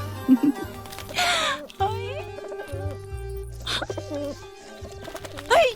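A pigeon coos in a romantic Hindi film scene, soft repeated throaty calls scattered among background music, with a voice speaking over them.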